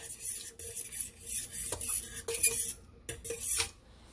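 A spoon scrapes and clinks against a crockpot as ranch chicken sauce is stirred on high heat, with irregular scraping strokes and a few sharper clinks, close and moderately loud, with no talking.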